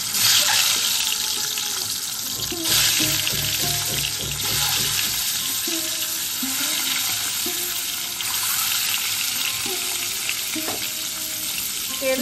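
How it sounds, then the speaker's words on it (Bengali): Eggs fry in smoking-hot mustard oil in a wok, giving a loud, steady sizzle with stirring and scraping, under background music. "এবার আমি ডিমগুলোকে ভেজে নেব।"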